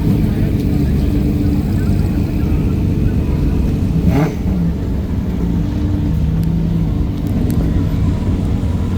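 A car engine revs at an outdoor car show, a loud, steady low rumble filling the whole stretch with a slight dip in the middle.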